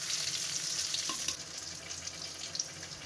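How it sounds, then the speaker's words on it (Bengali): Pointed gourd (potol) slices fry in a pan at home, giving a steady, dense sizzling hiss that holds close and fairly loud throughout, with a faint clink partway through and no voices. "পটল ভাজা করছি"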